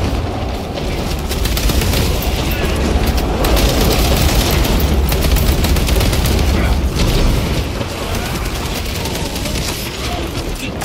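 Continuous loud gunfire with rapid bursts and booming explosions, a dense Space Marine 2 battle soundscape with occasional shouted voices mixed in.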